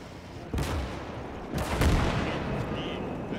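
Artillery fire booms and rumbles through a World War II Iwo Jima battle game, two heavy blasts about a second apart over a continuous roar of distant gunfire.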